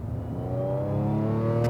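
A 500+ horsepower supercharged Audi S4 accelerates hard, its engine note climbing steadily in pitch and growing louder over a short burst, heard close with no talking.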